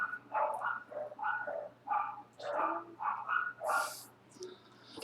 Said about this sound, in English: You can probably hear the dogs that we live by.